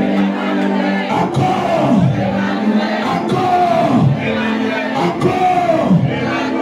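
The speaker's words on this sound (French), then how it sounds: "Acclame pour Emmanuel." Church congregation at a worship service cheering and acclaiming, a loud crowd of swelling shouts and whoops rising in repeated waves, close and continuous throughout.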